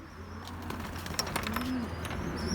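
Racing pigeons in a loft give soft low coos with occasional faint chirps and wing flutters, steady and fairly close, with no talking over them.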